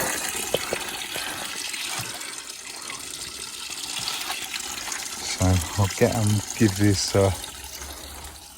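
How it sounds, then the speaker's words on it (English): Tap water running into a watering can in a vegetable garden, a steady hiss and splash under talk, with a few louder gurgling bursts near the end. "You can probably hear I'm filling up my watering can."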